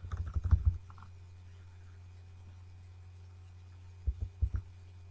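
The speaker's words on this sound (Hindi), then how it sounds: "मैं अब एरो क्लिक करता जा रहा हूँ" Computer keyboard keys pressed during a networking lab, a quick cluster of soft clicks at the start, then a short burst of a few more taps near the end over a steady low hum.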